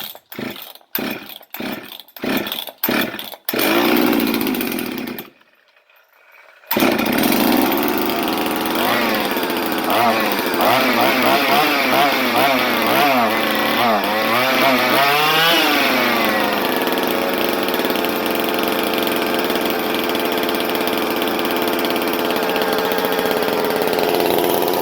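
A Husqvarna 266XP chainsaw with a freshly rebuilt top end, missing its top cover and with a broken exhaust bolt, gets a quick series of pull-start attempts. After a brief silence it fires up and runs loud and steady, the revs rising and falling.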